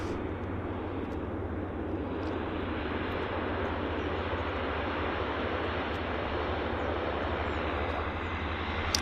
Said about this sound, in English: I wanted to capture this Pacific Coastal landing from Victoria in the non-standard scheme